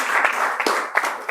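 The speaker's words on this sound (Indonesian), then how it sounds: "Tepuk tangan dulu untuk Angelina Goretti." A classroom claps for a student, quick uneven bursts of hand clapping from a small group, close and fairly loud, with a few sharper individual claps standing out over a brief stretch.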